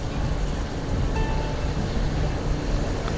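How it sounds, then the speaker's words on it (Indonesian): A medium-sized cement mixer truck climbs a road through a widening-works zone near the Kaligesing district office, its engine a steady, loud low rumble with broadband roadside noise throughout. "Wah, ini ada truk molen nih baru naik nih."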